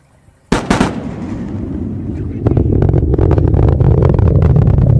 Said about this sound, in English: Sonic booms.